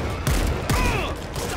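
Gunfire cracks in World War Z during a zombie fight in New York, two or three sharp loud shots in quick succession amid noisy battle sounds.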